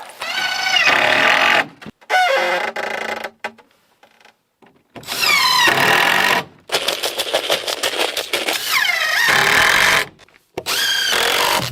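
A power drill drives 1.5 inch screws into boards on a cabin build in extreme cold, heard as loud, close whining bursts that rise and fall with short gaps between each screw.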